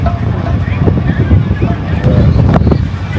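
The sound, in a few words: wind at the beach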